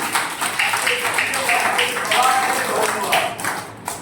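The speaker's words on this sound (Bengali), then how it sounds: "শাবাশ হাততালি" Schoolchildren at a workshop burst into brief, lively clapping that fills the space at close range, mixed with chatter and voices.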